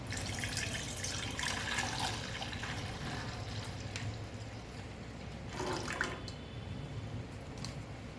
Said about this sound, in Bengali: এবারে এর মধ্যে আমি দুধটা দিয়ে দেব। দুধটা এখন এর মধ্যে দিয়ে দিচ্ছি।